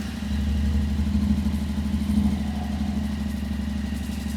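A 2026 Yamaha Tenere World Raid fitted with an Akrapovič exhaust ticks over in neutral, a deep, throaty idle with a steady low pulse, close and loud, with no talk over it.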